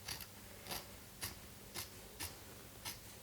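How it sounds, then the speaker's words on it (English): Sewing scissors trim the seam allowance through two layers of fabric, making a faint, steady series of about seven soft snips spaced roughly half a second apart over quiet room noise. "you can take 2 layers of fabric and then just cut the seam allowance by half"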